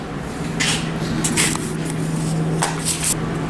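A spray gun shoots sealer onto the taillight bezels, front bumper filler and other parts of a 1971 Monte Carlo, in several short hissing bursts over a steady low hum in a workshop.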